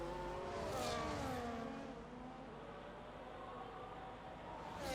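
An F1 race car in the F1 25 game screams down a straight at the Mexico City Grand Prix, its engine note rising and sliding through gears, steady and fairly quiet with no speech.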